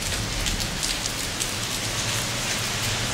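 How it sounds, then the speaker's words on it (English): Heavy rain pours down in a dense, steady hiss with no pauses and no voices. "It's raining pretty heavily."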